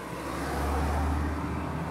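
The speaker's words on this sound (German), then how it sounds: "Und Autos, die hier vorbeifahren" Road traffic with cars passing by a parked truck, a soft swelling whoosh of a vehicle going past in the middle of steady roadway noise.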